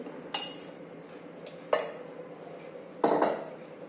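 A spoonful of oil going into a pan for a cluster bean vegetable dish, heard as three distinct metallic clinks of a spoon against the pan, spaced apart over a quiet background.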